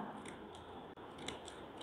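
Decorative-edged design scissors snip through waste material being shaped into a homemade toy. Several crisp cuts come in an uneven rhythm, close and fairly loud, with no talking.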